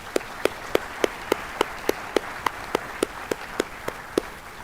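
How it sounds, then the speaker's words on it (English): Sparse, regular claps at a winter sports awards ceremony, about sixteen sharp evenly spaced hits over a few seconds, fairly faint, with no talking. "Round of applause for Owen."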